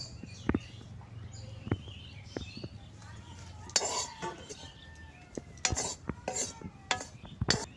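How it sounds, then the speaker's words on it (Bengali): Taro flour dry-frying in a hot wok in a village kitchen, with a spoon scraping and stirring and sharp metal clinks scattered over a faint background, loudest in the second half. "কড়াইটা গরম হয়েছে, কচুটা এখন ভাইজা নেব।"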